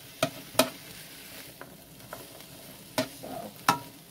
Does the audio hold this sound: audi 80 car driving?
no